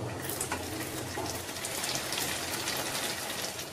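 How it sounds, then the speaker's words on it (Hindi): Noodle-filled veg spring rolls fry in hot oil, giving a dense, steady sizzle and crackle heard up close, with no voices. "इस तरह से बाकी कर भी फ्राई करेंगे।"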